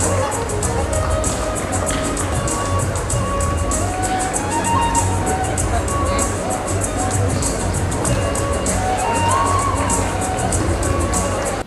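A large crowd at an honouring ceremony for Karnataka's home minister claps and cheers in a dense, continuous roar, with shouting voices and babble mixed throughout.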